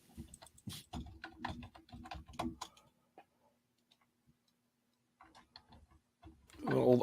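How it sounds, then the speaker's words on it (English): Rapid clicking keystrokes on a keyboard patter in irregular bursts, faint and close, pausing into near silence before a louder burst of other sound at the end. "We can hear you typing still."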